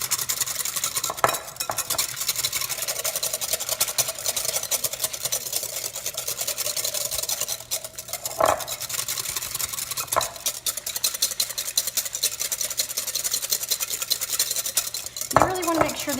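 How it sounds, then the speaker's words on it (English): Pancake batter beaten with a fork or whisk in a bowl, giving rapid continuous scraping and clicking close by, with a few louder knocks against the bowl's rim. "And you want to beat this until it is fluffy. You can do this with a fork or with a whisk."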